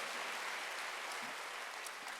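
Church congregation clapping during a Sunday service, a quiet, even patter of many hands that stays steady across the short stretch, with no voices over it.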